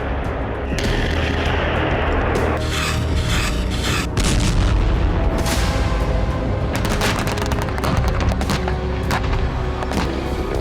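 Belarusian army tanks fire during a military exercise, producing repeated heavy booms and cracking bursts over a constant rumble, loud and dense throughout.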